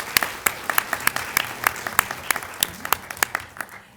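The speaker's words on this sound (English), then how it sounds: "Please give all of you a big round of applause." Audience applause at a health care talk at St. Joseph's: a dense, steady burst of many hands clapping, fairly close and loud, with no talking over it.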